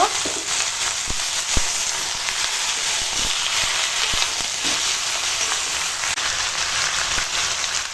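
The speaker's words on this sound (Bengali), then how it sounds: "এখন দিয়ে দেবো এই যে আদা রসুন আর সর্ষের তেল মাখানো মাংস" Ginger-garlic and mustard-oil marinated chicken sizzles steadily in a hot pan, a dense continuous frying hiss with a few sharp pops and spatters, close and loud, no talking.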